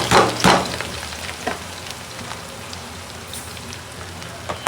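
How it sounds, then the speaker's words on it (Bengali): Onions frying in oil in a pot for biryani, a dense crackling sizzle that opens loud with two sharp bursts, then settles into a steady, softer hiss with scattered pops, with no voices. "এখন দিয়ে দিচ্ছি পেঁয়াজ গুলো।"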